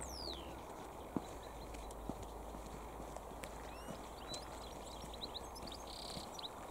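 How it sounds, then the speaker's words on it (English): Faint, distant goldfinch twittering in quick scattered chirps over a steady low outdoor rumble, with a few soft knocks or steps nearby. "Can you hear that bird? Yeah. That's a goldfinch."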